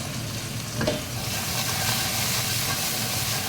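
Ginger dropped into hot rendered fat sizzles strongly, a steady close-up hiss and crackle that swells slightly after a brief clatter as the pieces go in.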